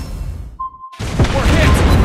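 A torpedo strikes the German Tier 10 battleship Schlieffen in World of Warships Blitz: a brief electronic tone, a moment of silence, then a loud sudden blast that swells into a sustained, heavy rumbling roar.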